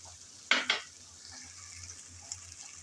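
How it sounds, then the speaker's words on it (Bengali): Two quick scraping clatters of a spatula in a pan, then a soft ongoing sizzle of potatoes frying with dried fish and shrimp, close and fairly quiet. "আলু দিয়ে আবারও ভালোভাবে কষিয়ে নেব।"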